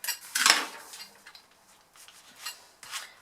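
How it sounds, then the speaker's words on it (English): Metal cutlery clinks and scrapes as it is slid into a folded Christmas napkin holder on a table, a few close rubbing and tapping sounds spread out over several seconds. "And then just simply add your cutlery into it"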